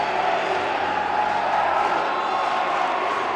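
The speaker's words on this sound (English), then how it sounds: "Crowd getting into it now, chanting MSU" A home crowd at a Murray State volleyball match against SIUE in the 2016 OVC Tournament championship roars and cheers steadily, a dense, loud wall of voices with no clear individual words.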